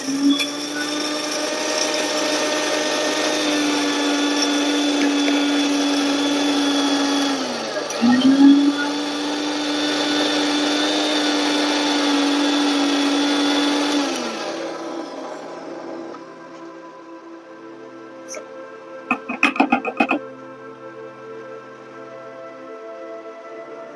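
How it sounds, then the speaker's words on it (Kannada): An electric mixer grinder whirs loudly and steadily as it grinds Himalayan salt into powder, dips briefly midway, then winds down and stops, followed by a few clinks and a voice near the end. "ಫಸ್ಟ್ ಇದನ್ನ ಚೆನ್ನಾಗಿ ಗ್ರೈಂಡ್ ಮಾಡ್ಬೇಕು"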